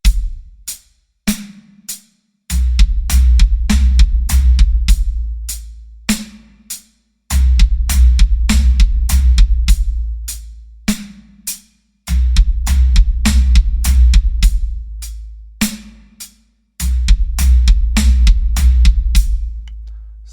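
Full drum kit groove with cheated double kick, sections of dense, fast low kick rolls under cymbals and snare hits, repeating in bursts separated by brief sparse breaks, loud and close with no talking.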